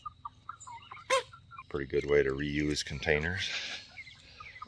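Chickens cluck and squawk in an A-frame chicken tractor, close by, in short bursts between and under a man's speech.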